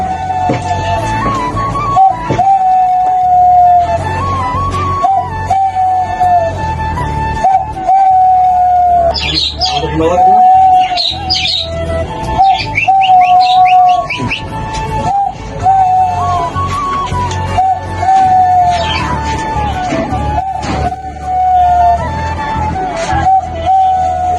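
Doves coo in a large aviary colony shared with budgerigars, a steady, fairly loud, repeated cooing line with bursts of higher chirps and twittering mixed in throughout.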